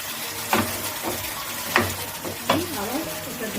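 Shol fish curry with potatoes simmering in a pan after hot water is added, a steady bubbling sizzle with a few louder stirring scrapes, close and continuous.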